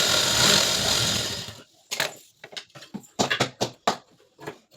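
A sewing machine stitches a katori blouse in a long, steady whirring run, then sews in short, uneven bursts with pauses between them.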